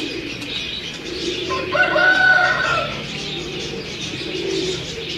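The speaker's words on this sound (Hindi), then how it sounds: "ये मेरा टैडी कबूतर है जी।" A teddy pigeon coos nearby, a soft murmuring call rising briefly above steady background noise.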